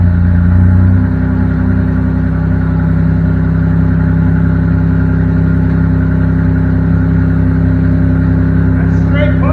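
Old Buick hot rod engine running with a straight pipe and no muffler, a loud, steady, deep exhaust drone that holds an even idle-to-rev roar, very close, throughout.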